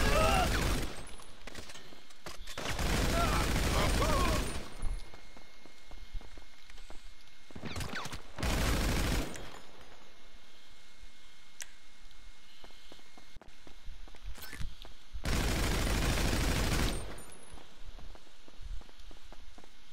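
Heavy gunfire from GTA Online comes in a few long, loud bursts several seconds apart, with quieter stretches of scuffling movement between them.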